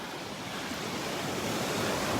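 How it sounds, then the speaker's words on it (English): Ocean waves wash onto Vanderbilt Beach, a continuous broadband surf roar swelling slightly toward the end, with some wind hiss and no speech. "Still got a few waves out here."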